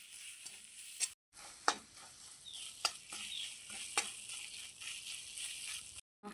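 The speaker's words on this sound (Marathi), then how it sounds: "बघा, छान बेसन भाजायला सुरुवात झाली." Gram flour roasting in a pan as a spatula stirs it, soft gritty scraping and light sizzle punctuated by sharp metallic clinks and taps, close and intermittent, with two brief silent gaps.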